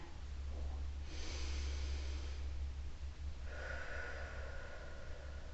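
During a home lower-back exercise session, a person draws a slow breath in through the nose and then lets it out through the mouth, two soft, close airy passes with a short pause between them and no speech.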